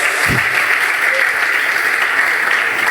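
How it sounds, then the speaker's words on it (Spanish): Steady, loud congregation applause at a church service, a continuous wash of clapping throughout. "Dale fuerte ese aplauso."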